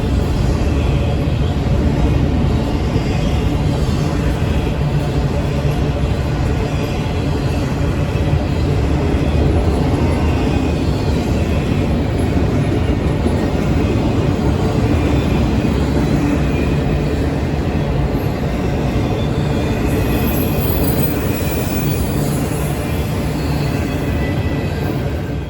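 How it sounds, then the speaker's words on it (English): Norfolk Southern westbound intermodal freight train carrying trailers and stacked containers rolls past at close range, a loud continuous roar and rumble of wheels on rail that holds steady for the whole stretch. "Another westbound NS intermodal train."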